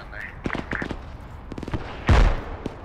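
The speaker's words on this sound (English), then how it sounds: "Rocket. Oh, shit, rockets." Rockets fired and exploding during a military video game mission at a sawmill, with a heavy blast near the end after several sharp reports, under voices talking.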